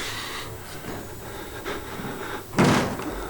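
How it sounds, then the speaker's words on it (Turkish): Muffled thuds and scraping against a door being forced in the video game Outlast, building to a heavy bang near the end, heard from close by with no talking. "biri kapıyı kırmaya çalışıyor"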